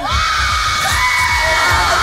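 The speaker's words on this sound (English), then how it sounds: "3, 2, 1, scream!" A film-set crowd screams together on cue during the making of Thor: Love and Thunder, a loud, dense, continuous wall of yelling and shrieking voices held for about two seconds.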